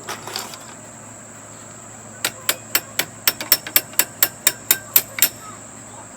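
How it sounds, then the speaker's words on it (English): A wrench tapping the top bolt of a vintage Herters Model 6 shotshell press during 12 gauge reloading: a quick series of about fourteen sharp metallic taps in steady rhythm, close and clear, over a faint constant high whine. "Grab the wrench and tap them off there though."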